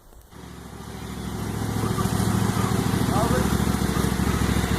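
Lawn mower engine running as it backs up to a yard trailer, a steady buzzing drone that starts after a brief pause and swells, then holds loud and close to the end.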